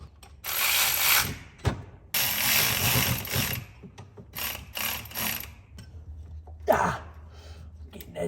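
A ratchet tightens the turbo bolts on a Suburban in a series of loud, close clicking bursts separated by pauses, with a few shorter ratcheting strokes near the end.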